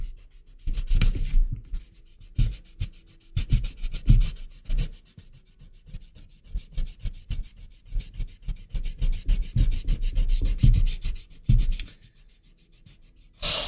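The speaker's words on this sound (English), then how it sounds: "So, we're gonna erase everything." Scratchy, uneven bursts of rubbing, like an eraser worked hard over paper to erase everything, come close and loud in irregular strokes with short pauses between them.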